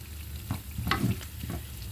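Borscht ingredients fry and stew in a pan, giving a steady close sizzle with a few louder stirring scrapes and clatters, heard alone.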